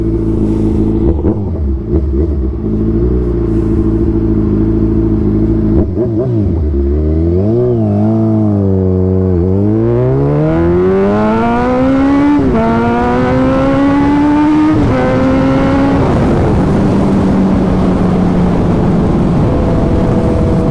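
A motorcycle engine revs up hard and loud, pitch climbing in repeated rising sweeps before settling into a steady high drone.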